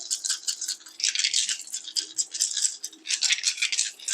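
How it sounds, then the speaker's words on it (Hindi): Small dice clatter and rattle close by in quick repeated bursts, shaken steadily with brief pauses between rounds. "डाइस की आवाज़ पे आपको फोकस करना है"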